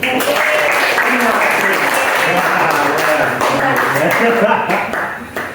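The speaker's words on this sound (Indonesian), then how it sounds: "Oke, tepuk tangan." An audience claps steadily through a coaching session, a continuous wash of hand claps with voices mixed in under it.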